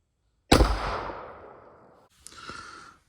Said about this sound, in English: Harrington and Richardson single shot. Target on the right, here we go.